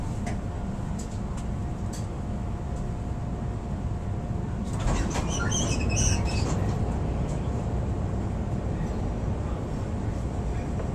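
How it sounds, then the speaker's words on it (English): Chicago Brown Line elevated train riding the tracks, a continuous low rumble with a brief burst of rattling and squealing midway, steady and close throughout. "This is a brown line train to the loop."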